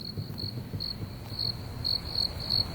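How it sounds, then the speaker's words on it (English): Crickets chirp steadily in a quiet night setting, a rapid high trilling repeated in short bursts over a soft low background hum, with no voices. "Is that crickets?"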